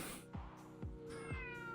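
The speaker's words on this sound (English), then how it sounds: "Meow." A cat meows close by, three to four short, rising-and-falling cries in quick succession, fairly faint, with no other sounds around them.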